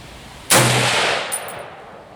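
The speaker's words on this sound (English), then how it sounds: "And I'm single shooting." A single M1A rifle shot cracks sharply at an outdoor range, loud and close, its report ringing out and decaying, with a faint metallic clang after.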